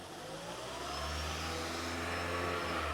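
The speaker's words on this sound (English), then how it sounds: "I'm gonna rev up the engine." A Toyota Prius engine revs up from a low hum, the pitch climbing steadily and holding as a smooth sustained drone, fairly quiet and close.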